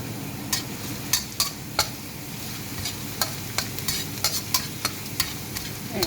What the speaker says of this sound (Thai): เราก็จะผัดกระเทียมให้เหลืองก่อนนะคะ